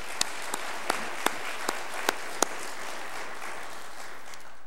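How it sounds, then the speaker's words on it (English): Audience at a college president's mid-year address applauding, a soft steady patter of clapping with a few sharp individual claps standing out near the front. "all of us owe each other a great round of gratitude and applause"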